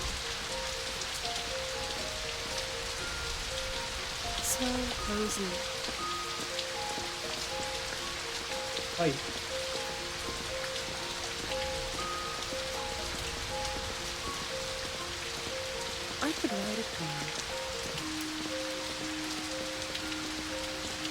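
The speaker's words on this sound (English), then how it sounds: "I want to hear the raindrops falling on my door." Rain falls in a continuous soft hiss with scattered raindrop patter, running beneath gentle musical tones and a few brief spoken lines.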